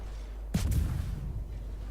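A single naval artillery salvo from a battleship in World of Warships, a sudden booming blast that rumbles and fades over about a second against steady low background noise.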